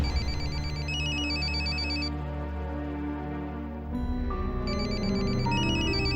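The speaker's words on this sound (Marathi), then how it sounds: "इन्स्पेक्टर जॅकीचा फोन आहे." Mobile phone ringtone playing a bright, repeating electronic melody, steady and clear near by, with a brief change in the tune midway and no speech over it.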